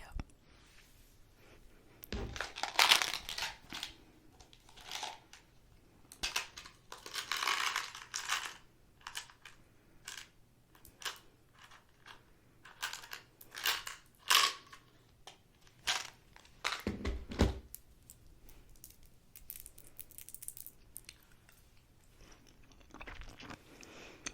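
Tic Tac mints crunched in the mouth at close range, a series of sharp, irregular crunches and clicks with soft mouth sounds between them in a quiet room.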